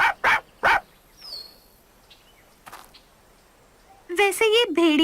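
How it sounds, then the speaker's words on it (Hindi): A cartoon wolf pup yaps three quick, high barks up close, then a quiet pause before a person starts talking. "अच्छा होगा अगर तुम इस कुत्ते को शांत कर दो।"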